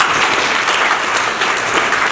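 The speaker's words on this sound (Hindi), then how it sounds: "ताली बजाएं" Steady, dense applause from an audience thanking helpers at a Hindi-language event about daughters' medical studies, a loud broadband clatter of many hands held at an even level throughout, with no voices over it.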